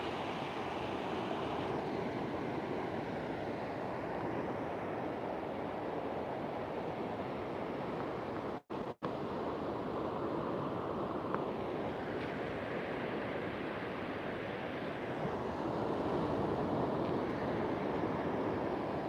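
Ocean waves break at a surf spot where surfers paddle out, a continuous broad roar of surf and wind, loud and steady with slow swells in intensity and a brief dropout midway, no voices.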